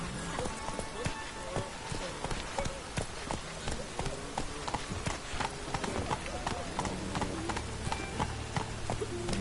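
Roach the horse galloping in a video game, rapid rhythmic hoofbeats drumming steadily over ground for the whole stretch, with game sounds and a faint voice beneath.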